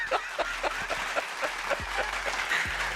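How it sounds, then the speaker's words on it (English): A clapping sound effect played back during a podcast conversation: a thin, evenly paced run of claps repeating through the stretch at moderate loudness, with no talk over it. "I'll put the claps up."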